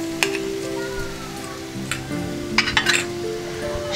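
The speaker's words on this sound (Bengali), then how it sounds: "সিদ্ধ আলু দিয়ে ভালো করে কষিয়ে নেব" Mashed boiled potatoes sautéing with spices in a pan while making potol chop (stuffed pointed gourd fritters), a steady sizzle with intermittent scraping and clinking of a spatula against the pan, quick stirring clatter near the end.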